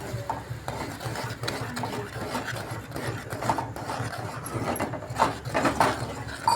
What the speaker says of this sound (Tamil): நம்ம கடலை மாவு கொட்டி நல்லா கிளறிக்கலாம்.